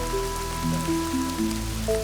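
Steady rain falls on a Roman mansion archaeological dig site in Alfold, a continuous even hiss under a soft background of low music.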